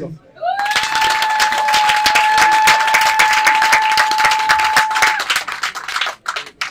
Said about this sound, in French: Je voudrais encore qu'on acclame.